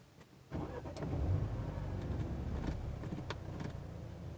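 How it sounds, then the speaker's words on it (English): A 2019 Mercedes B200 engine starts with a brief crank that catches and settles into a steady idle, heard from inside the cabin at low volume. "Foot on the brake, start the engine."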